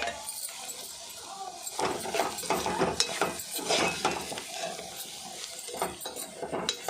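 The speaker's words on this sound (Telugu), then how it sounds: "దీంట్లోకి మనం వేపుకున్నాం కదా ఎండు చేపలను కూడా వేసుకుందాం." Fried dried fish added to a pan and stirred with gorongura (sorrel) curry ingredients: clinking, scraping spoon-on-pan strokes over a light sizzle, fairly close.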